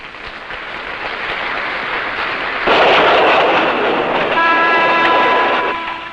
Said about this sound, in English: This guarded train, preceded by an armored pilot engine, takes 2 days to travel the 400 miles from Rangoon to Mandalay.